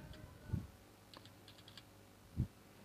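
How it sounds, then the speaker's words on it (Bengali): A computer keyboard is struck in a quiet room: two distinct, fairly firm key presses like the Enter key, with a few faint lighter taps between them, nothing else heard. "এন্টার বাটনে প্রেস করতে হবে"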